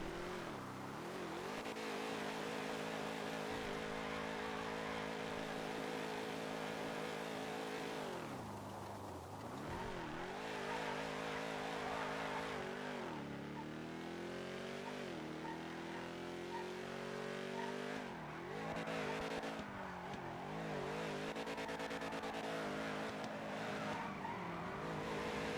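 A car drifting in GTA NoPixel, the engine droning and revving with rising and falling pitch while tires squeal and skid continuously through long slides, loud and close for the whole stretch without talk.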